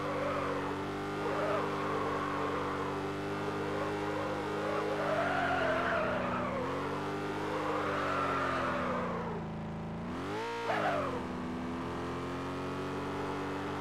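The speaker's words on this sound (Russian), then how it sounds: "Хорошо слышно, как контроль тяги не дает двигателю работать на всю мощность." A simulated car engine in a video game, held back by traction control, drones steadily with a wavering pitch while the tires skid and squeal. The engine briefly dips and then surges back near the end.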